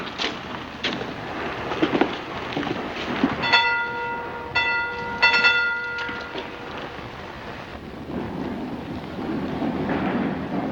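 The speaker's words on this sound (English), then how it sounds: "There's your train" A steam-era train at a railway station platform rumbles nearby, with a loud sharp whistle blast sounding twice in the middle amid clanking and hiss, then the rolling noise carries on.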